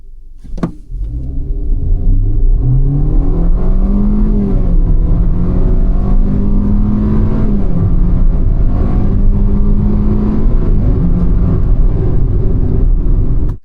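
A Hyundai Venue SUV with 121 horsepower pulls off the line in normal mode, giving a loud, continuous engine drone that rises in pitch and holds steady through the run after a short click at the start, alone without speech.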